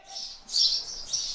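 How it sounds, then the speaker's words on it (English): Birds chirping outdoors beside a garage where a boosted Mini's radiator and cooling pipework are being fitted, several bright tweeting bursts close together, fairly close and alone with no talk over them. "Shut up, birds."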